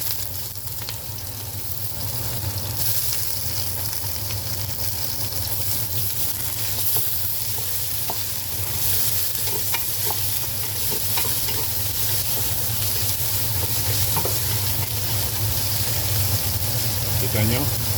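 Garlic, onion and ginger sauté in a pan with a loud, continuous sizzle and frying crackle, steady throughout, along with occasional stirring sounds and a low background hum.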